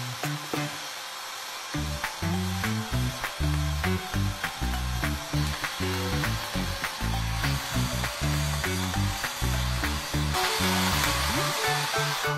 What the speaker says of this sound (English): Then when it comes to the cowlick, I'm gonna blow dry everything down.